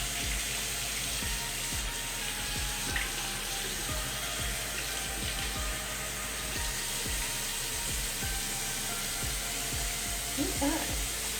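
Tap water runs steadily into a sink while a sick kitten is bathed, a constant hiss with scattered small knocks and splashes, fairly close and unbroken.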